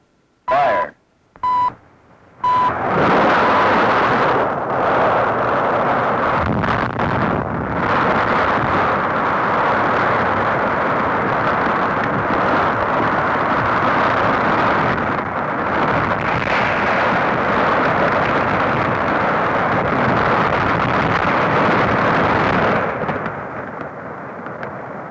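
Massive explosive blast demolishing Ripple Rock, an underwater rock in a channel, heard from about 8,000 feet away: a few short beeps, then a sustained loud roaring rumble lasting over twenty seconds before fading.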